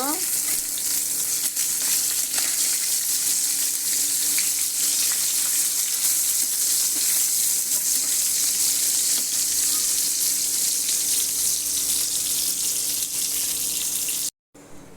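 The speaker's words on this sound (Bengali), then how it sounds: "এখন আমি মাছগুলো উল্টায় দিব।" Fish frying in a pan, a loud and continuous crackling sizzle of hot oil that holds steady throughout before cutting off abruptly near the end.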